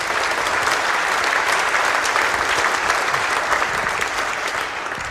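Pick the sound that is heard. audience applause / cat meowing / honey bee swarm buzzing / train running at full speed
audience applause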